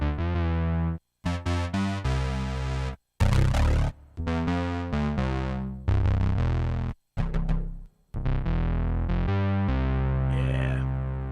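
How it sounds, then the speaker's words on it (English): A 4Pockets Copperhead software synth with a light distortion effect plays a series of loud, sustained harmonic notes and chords in bursts separated by short gaps, with no talking. "It's got a nice little bit of distortion on there."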